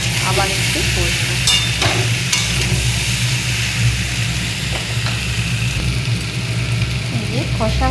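Masala with sugar sautéed in a pan, a dense close sizzle with stirring scrapes under a steady low hum.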